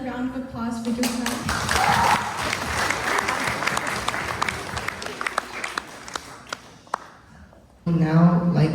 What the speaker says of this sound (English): Can we have another round of applause for Tuan?